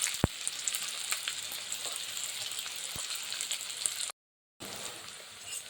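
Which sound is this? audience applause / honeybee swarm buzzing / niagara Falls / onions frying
onions frying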